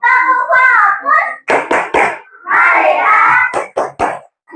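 Fourth-grade classroom group doing a rhythmic clapping chant: sharp, evenly spaced hand claps in quick bursts alternating with loud children's voices chanting together, close and lively.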